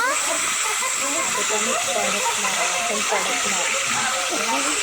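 Masala paste (wet ground spice mix) frying in two spoons of oil on a gas stove for a crab (chimbori) soup, giving a steady, close hiss and crackling sizzle throughout with faint voices in the background.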